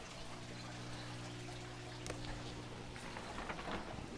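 Water being scooped from a 240 gallon aquarium, a steady soft watery wash with light splashing and trickling, a faint hum from tank equipment beneath it and brief louder sloshes near the end.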